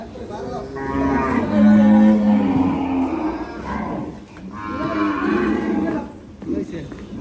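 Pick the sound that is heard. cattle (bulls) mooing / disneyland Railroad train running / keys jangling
cattle (bulls) mooing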